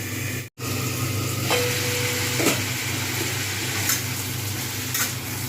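Young kohlrabi fries in a pan, a steady low sizzle and hum with faint clicks and a brief lid or utensil touch near the start.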